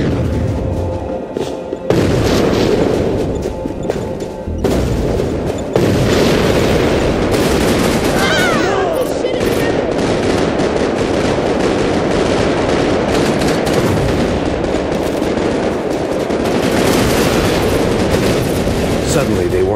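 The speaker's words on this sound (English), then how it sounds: "They'd go out shooting." Dense, continuous gunfire from a Max Payne 3 gang-war shootout in Hoboken, loud and sustained with bursts and booms, a voice speaking over the din.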